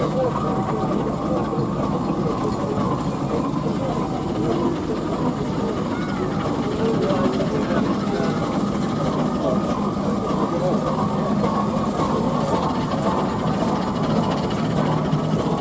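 A small McLaren Tusker steam traction engine runs on the road at a vintage country show in Gloucestershire, giving a steady, continuous mechanical chuff and rumble with a soft hiss, heard close and loud throughout under a speaking voice.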